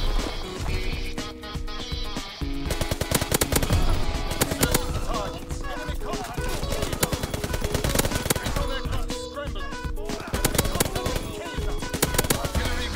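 Submachine gun fire in Call of Duty WW2 gameplay, rapid automatic bursts over dense game sounds, footsteps and music, with a player talking at times.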